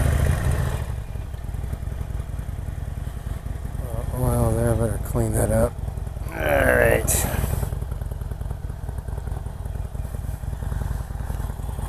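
A 2016 Harley-Davidson Roadster engine idles steadily throughout, a low rumble under a man's brief speech, with a faint clatter partway through.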